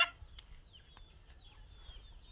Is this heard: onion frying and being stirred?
no